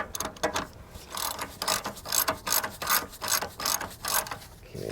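A hand ratchet clicks in quick repeated bursts while snugging a ball joint nut on a 2007-2013 Chevy Tahoe suspension, loud and close with short pauses between strokes.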